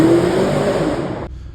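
An Audi RS Q8 V8 revs hard against its soft limiter, a loud, close engine roar held for about a second before cutting off abruptly.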